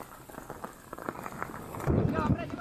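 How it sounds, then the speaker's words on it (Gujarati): Soft patter of heavy rain falling continuously in Nadiad, Kheda district, fairly faint, growing louder and denser toward the end. "નચિકેત કેવો વરસાદ ખાસ કરીને નડિયાદ અને ખેડાના ગ્રામ્ય વિસ્તારમાં વરસી રહ્યો છે"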